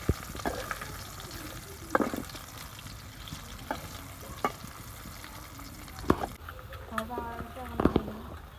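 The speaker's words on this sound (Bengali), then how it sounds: "হালকা করে ভাজি নেব, বেশি লাল করা যাবে না।" Potatoes lightly frying in a pan for dim aloo, a steady soft sizzle with occasional clinks of a spoon stirring against the pan, while a voice talks over it.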